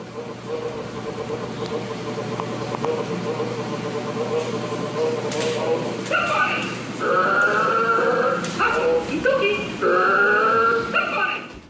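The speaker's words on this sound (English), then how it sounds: "The toy makes some low noises at first, but once she says something about it, it apparently becomes very aggressive and starts growling in response." Low growling and snarling from a supposedly possessed toy inside a toy box, rising after a few seconds into loud, repeated harsh bursts with short pauses between them.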